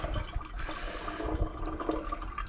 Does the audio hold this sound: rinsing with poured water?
yes